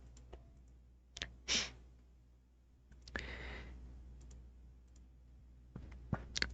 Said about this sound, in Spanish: Le hago clic aquí y automáticamente me genera la agrupación